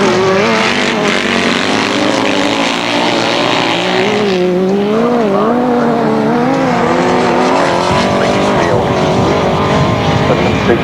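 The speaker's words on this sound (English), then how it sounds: "Superb sidecar engine here this afternoon." Sidecar motorcycles race around a grasstrack, their engines a continuous loud roar with a wavering pitch as the machines pass and accelerate, and an announcer faintly audible underneath.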